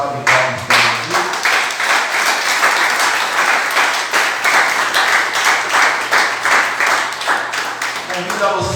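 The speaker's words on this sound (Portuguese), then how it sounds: "Vamos dar salva de palmas para Jesus." A church congregation gives a round of applause for Jesus, loud and rhythmic clapping that carries on steadily for several seconds, with a low sustained tone, likely an organ or keyboard, beneath it.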